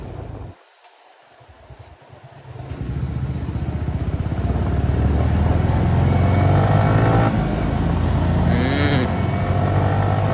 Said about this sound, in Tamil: இந்த வண்டி சவுண்டு பார்த்தீங்களா வயசு எப்படி இருக்குன்ட்டு?